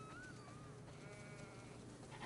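Sheep in The Last of Us Part II bleat in a few faint, wavering calls over a steady background hum, with no one speaking.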